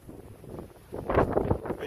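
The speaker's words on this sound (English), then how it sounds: "another windy day here down at the Beachfront Ranch" Wind blowing at a beachfront ranch in Hervey Bay, gusting against the microphone in rough bursts that grow louder partway through.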